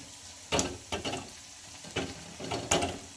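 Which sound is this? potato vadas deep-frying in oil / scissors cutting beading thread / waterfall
potato vadas deep-frying in oil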